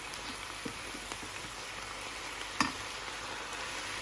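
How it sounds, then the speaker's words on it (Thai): Steady sizzling of mushrooms stir-frying for carbonara in a hot pan, with occasional light scrapes and one sharper clack of a utensil. "ขอผัดให้หอมหน่อย"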